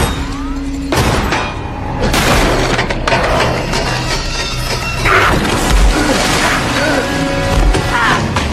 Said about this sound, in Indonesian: mengenai pipa gas, yang tentu saja mengakibatkan ledakan dan menyebabkan kebakaran